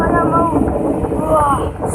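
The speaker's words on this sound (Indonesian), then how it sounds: "Wah, angin sangat kencang, Bung." Strong wind blows hard near the water during a fishing outing, a steady, rough roar buffeting the microphone throughout, with a voice speaking over it.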